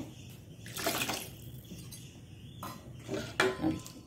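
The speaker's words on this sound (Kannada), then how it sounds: "ಅದನ್ನು ನಾನು ಸ್ವಲ್ಪ ಅದಕ್ಕೆ ನೀರನ್ನು ಇನ್ನೂ ಸ್ವಲ್ಪ ಸೇರಿಸ್ಕೊಳ್ತೇನೆ" Water is poured into a metal pot of Mangalore-style rasam, giving two short splashing bursts with light clinks of the vessel, quiet and close, with no one talking.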